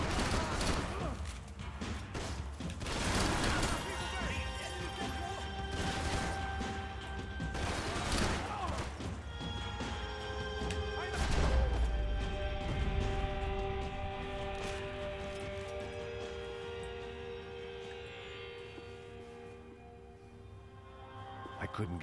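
Gunfire bursts in the video game Max Payne 3, loud repeated shots clustered early, with crashes and a sustained tonal game soundtrack carrying on afterward.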